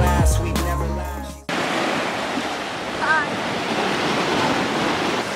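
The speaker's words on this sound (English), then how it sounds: "Bro, the waves." Ocean waves break steadily on the shore at Dinadiawan, a continuous loud wash of surf with wind buffeting the microphone, preceded by a short burst of music at the start.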